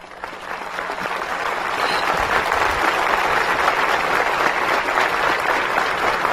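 A large audience at an outdoor commemorative ceremony in Cuba applauds steadily, a broad sustained wash of clapping that swells slightly and holds at full strength.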